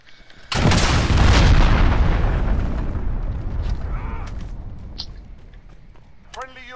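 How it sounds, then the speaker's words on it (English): Huge booming blast from a cruise missile strike in a video game, erupting suddenly and rolling on for several seconds as a long decaying rumble, with smaller crackles and a voice talking faintly near the end. "Hello, cruise missile away."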